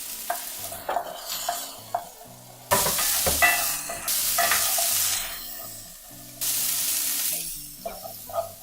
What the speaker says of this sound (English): So at this point, I add the cauliflower.